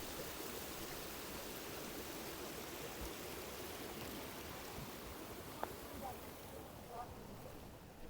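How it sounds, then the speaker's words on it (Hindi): Fast-flowing mountain water rushing between peaks, a steady broadband roar that fills the whole clip, near and constant with no voices. "ये जो पहाड़ों के बीच में से पानी आता है ना"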